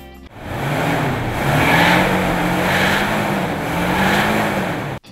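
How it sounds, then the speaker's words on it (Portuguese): A classic Cadillac V8 engine of about 210 horsepower roars loudly and close, revving in repeated rising and falling swells for several seconds before cutting off abruptly. "O motor não tem só tamanho, não. O ronco intimida."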